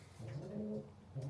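A racing pigeon in a breeding loft gives a single soft, low coo, fairly close but quiet, against faint background noise.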